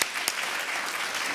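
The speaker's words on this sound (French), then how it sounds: "Vous pouvez l'applaudir." A burst of applause at a municipal council swearing-in, many hands clapping in a dense, even patter, loud and continuous with no voices.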